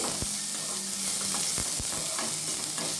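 Onions, curry leaves and green chillies sauté in a pan with a continuous, close sizzle, punctuated by occasional clacks of a spatula stirring.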